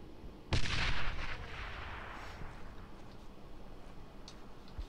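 A single explosion in the World War II shooter Brothers in Arms: Road to Hill 30, a sharp boom followed by a rumbling tail that fades under a low background din.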